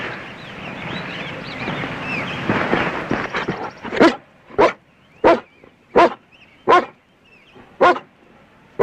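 A dog barks in a steady series of about seven sharp, evenly spaced barks, close and loud, after several seconds of busy, noisy background.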